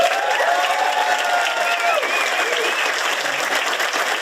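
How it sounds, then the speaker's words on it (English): An audience at a political rally bursts into sustained applause mixed with crowd cheering, loud and continuous, with a few voices calling out and whistling above the clapping. "Keep clapping, folks"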